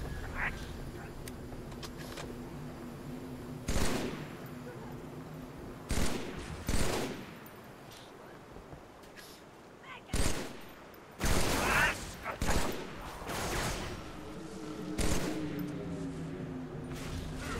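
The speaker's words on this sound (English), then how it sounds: "I heard another carbine." Covenant carbine fire in Halo 3, scattered sharp single shots and short bursts at irregular intervals over a low droning battle background, with a voice talking at points.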